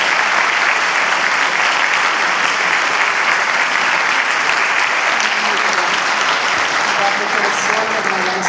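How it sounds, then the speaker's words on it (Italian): Sustained audience applause from a school crowd at an event with astronaut Samantha Cristoforetti in Oderzo, a dense, even clapping roar that fills the whole stretch without a pause. "Facciamo un applauso,"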